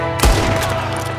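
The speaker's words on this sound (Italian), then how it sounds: "che gli sparo da lontano mentre quello scappa." A gunshot from Red Dead Redemption 2 in a snowy setting, one loud sharp blast with a booming tail that rings out over a steady windy backdrop, close and alone with no talk.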